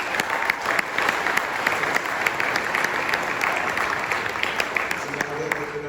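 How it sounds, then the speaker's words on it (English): An audience at a business presentation breaks into a steady round of applause, dense clapping filling the room at even loudness throughout with a faint voice or two underneath. "let's get a round of applause for that"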